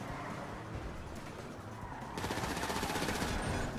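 Gunfire in GTA 5 Online, a steady crackling fusillade that grows denser and louder partway through, with no talk over it.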